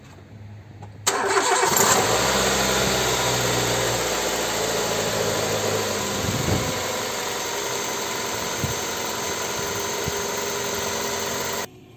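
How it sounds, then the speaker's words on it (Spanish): A Nissan Primera P12 engine cranks and catches after a brief quiet moment, then settles into a steady, close idle hum that carries on without pause for about ten seconds, with no one talking. "Vamos a arrancar el coche."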